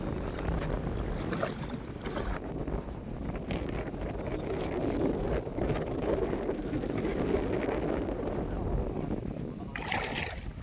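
Steady wind roars and buffets the microphone throughout, a constant rushing noise with faint splashing underneath.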